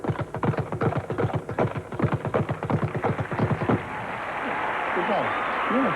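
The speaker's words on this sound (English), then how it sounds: "that's the first sound you hear when you walk into a gym. The sound of the speed bag" A boxer works a speed bag in a gym, giving a fast, steady drumming rhythm of sharp strikes for several seconds before the hitting stops and a broad crowd murmur takes over.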